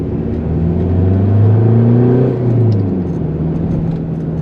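A Ford Mondeo ST TDCI diesel engine accelerates with a steady, rising drone that swells and then eases back under load, heard from inside the car, loud and continuous with no talking.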